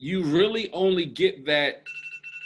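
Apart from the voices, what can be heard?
alarm sounding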